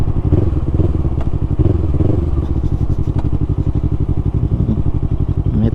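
A motorcycle engine runs close by with a steady, rapid thumping pulse and faint mechanical clatter, holding an even loud level throughout.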